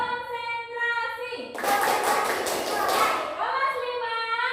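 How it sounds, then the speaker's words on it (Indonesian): A fifth-grade class of children in an elementary school lesson bursts into a brief round of clapping, dense and even for about two seconds, over a steady droning tone that carries on before and after. "Oke, tepuk tangan ya."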